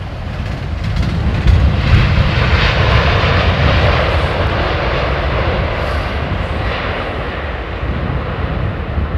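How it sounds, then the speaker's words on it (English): A Saudi Boeing 787 touches down at London Heathrow, a loud, steady jet engine roar that holds close and continuous throughout with no voices. "Tippy toe landing coming up."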